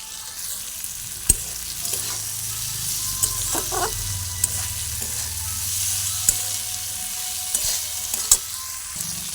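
Maggi noodles being stirred in a frying pan, with repeated scraping strokes of a spatula over a soft, steady sizzle and a few sharp clicks against the pan. Close and fairly quiet, with no voices.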